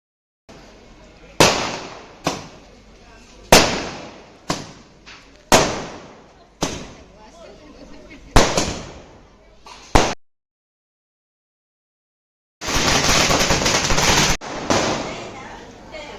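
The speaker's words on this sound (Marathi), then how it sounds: "आता फटाक्याची आतिषबाजी इथे होणार आहे" Fireworks at a Bhim Jayanti celebration go off in a series of loud, sharp bangs spaced a second or two apart, each trailing off into crackle, then a dense burst of crackling.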